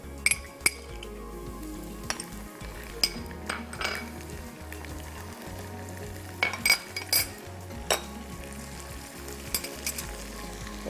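Garlic, ginger and green chili paste sizzling in a pan with browned onions, a steady low fry punctuated by sharp clinks and scrapes of a utensil against the pot.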